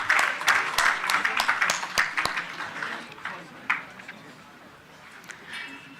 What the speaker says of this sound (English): Please give a huge round of applause to Dr. S Jaishankar.